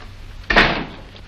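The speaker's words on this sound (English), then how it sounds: "Go outside and close the door." A single firm door shutting in a 1940s mystery film scene, one loud close thud with a brief rattle and short decay against a quiet room background.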